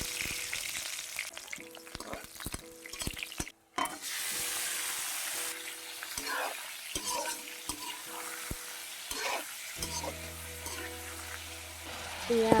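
Onions frying in a kerahi wok for pork curry give a steady sizzle, broken by repeated scraping stirs and occasional metal clanks of the utensil.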